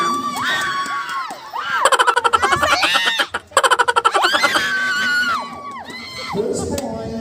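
Students shout and cheer loudly at a school basketball game, a big crowd roaring with bursts of rapid rhythmic chanting or clapping, a short dip in the middle, then the noise swells again.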